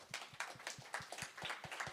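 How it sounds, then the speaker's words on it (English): An audience at a talk welcomes a photographer and professor with fairly quiet, brisk applause made of rapid, overlapping claps that carries on steadily for a couple of seconds. "let's give her a round of applause"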